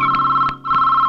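A telephone rings loudly and steadily in a Telugu film scene. The electronic ring pulses in short repeated bursts, close and alone.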